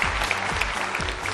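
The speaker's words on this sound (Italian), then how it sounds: "un applauso alle signore che dopo ci faranno assaggiare qualcosa" An audience claps for the women who will serve food at an Italian community event, a dense, steady patter of many hands that is close and even in loudness throughout the short burst.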